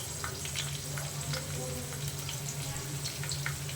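Curry leaves and green chilies fry in oil in a pan for a brinjal masala curry, giving a steady soft sizzle under a low hum, with faint scraping as they are stirred.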